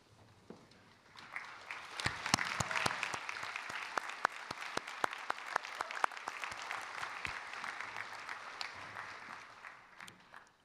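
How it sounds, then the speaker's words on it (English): Audience applause for educators standing to be recognized at a university commencement in a field house, a dense sustained burst of many hands clapping that swells and holds for several seconds. "You deserve a big round of applause for your excellent work."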